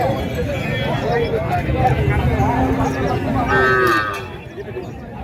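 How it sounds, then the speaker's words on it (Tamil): Cattle, including a pair of plough bullocks, moo at a busy rural cattle market, a few drawn-out calls rising over steady crowd noise and close talking. "ஸோ ஒரு ஜோடி உழவு மாடுங்க."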